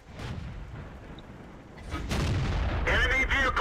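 Tank cannon fire in a World of Tanks battle, heard as a loud booming shot with a rumbling tail and further bursts of gunfire close behind, no voices over it.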